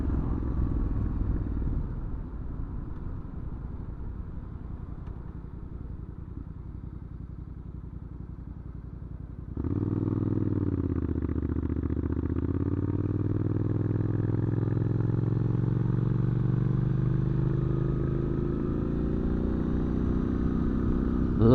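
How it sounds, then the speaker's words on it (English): A Triumph Scrambler 900 motorcycle, a heavy 230 kg bike, is ridden with its engine droning steadily. Midway the engine note jumps louder and climbs gradually, staying close and continuous with no talk. "Really good engine braking as well."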